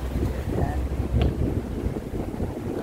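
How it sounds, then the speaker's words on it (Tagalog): Steady low wind rumble buffets the microphone, with a faint hint of a boat or engine and water nearby, no clear voices. "Ay, mahangin dito ah."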